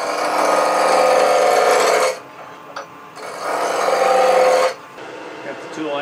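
Turning tool cutting shavings from wood on a lathe in two sustained passes, a harsh scraping hiss with a brief quiet gap between, near and loud.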